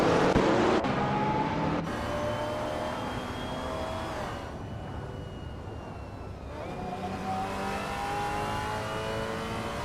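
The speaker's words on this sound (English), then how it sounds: "I hope you're ready for some exciting AI car races today." Race car engines from an AI car racing video game whine and rev continuously at high pitch, several cars overlapping with rising and falling tones, loud and steady without talk.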